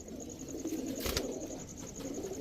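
Pakistani teddy pigeons coo softly in short low murmurs, a steady mid-distance cooing over faint background hiss, with no talk.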